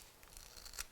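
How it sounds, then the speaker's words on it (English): Scissors snip along a narrow fabric strip for a Barbie dress, a soft quiet cut lasting under a second, close and alone without talk. "I'm simply going to trim a little bit"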